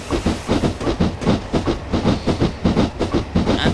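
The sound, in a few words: steam train running, from video game Train Simulator 2012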